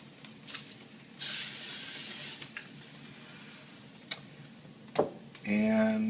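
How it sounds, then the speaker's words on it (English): A short burst of non-stick vegetable cooking spray hisses for about a second, surrounded by quiet kitchen clicks and a brief voice near the end. "I'm just going to spritz it here with a little bit of non-stick veggie spray"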